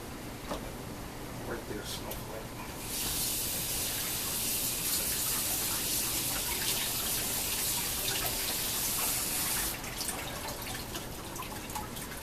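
Tap water runs into a kitchen sink to rinse lettuce, a steady hissing stream that swells louder for several seconds in the middle, then drops back to a softer trickle.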